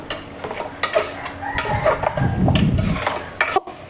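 Mutton being sautéed and stirred in masala in a pan: a spoon scrapes and clinks against the pan in an uneven rhythm over a soft sizzle, close and fairly loud, with no talking.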